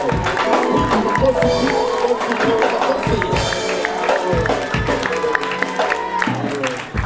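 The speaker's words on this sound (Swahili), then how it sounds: "Piga makofi na vigeregere." A church congregation at a worship service claps steadily and ululates in a dense, continuous wall of applause and high trilling cries, loud and sustained throughout.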